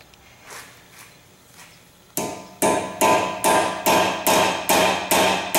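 Sharp metallic hammer strikes on a punch, bending back the small locking tabs of an axle nut on a BMW E46 race car; about eight loud, evenly spaced blows follow a few faint taps.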